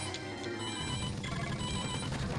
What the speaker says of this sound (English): I'm not picking up that phone.